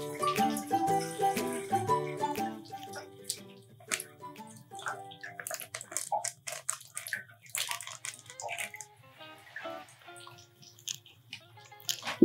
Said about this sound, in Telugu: 1/2 లీటర్ పాలు పోసుకుంటున్నాను నేను.